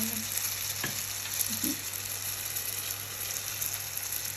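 A metal rose-cookie mold steeps in hot oil on low heat for Thai dok jok cookies, giving a steady close sizzle and bubbling hiss with a couple of faint clinks, no talking.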